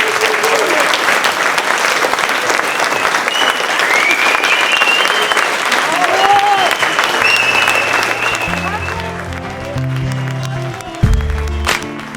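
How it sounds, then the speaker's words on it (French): Audience applause at an intergenerational forum, dense and steady clapping from a crowd that fades near the end as music or low tones come in. "je vous demande encore une fois de les applaudir"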